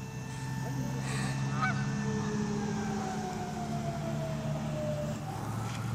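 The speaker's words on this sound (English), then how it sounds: "A distant siren." A siren wails far off, its tone sliding slowly downward over a steady rumble of background noise.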